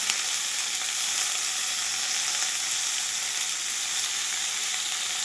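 Fish going into a frying pan with onion, panch phoron, pumpkin, long beans, cabbage, eggplant, carrot, sweet potato and okra, giving a loud, even, continuous sizzle with no talk.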